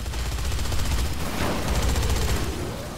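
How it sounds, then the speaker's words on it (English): Machine gun fire in the zombie game Dead Rising 3, a loud continuous rapid burst of shots running the full length without pause. "But I mean, the machine gun's pretty good too."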